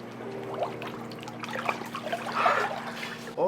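Water runs into a cold plunge tub in a continuous trickling, splashing pour, close and moderately loud, with a steady low hum underneath and a brief louder burst at the very end.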